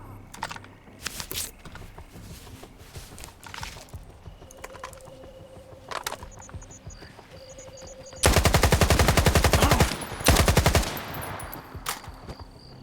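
Automatic gunfire from S.T.A.L.K.E.R. 2: Heart of Chornobyl rips out in two loud sustained bursts, preceded by scattered single shots and faint keyboard clicks in a combat scene.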